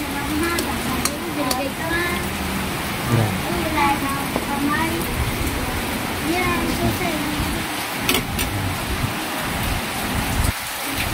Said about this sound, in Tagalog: Yan, bumuhos na naman ang malakas na ulan.